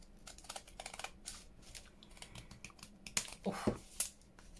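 Scissors snipping through paper packaging scraps for a junk journal, a few close crisp cuts near the end amid light handling rustle.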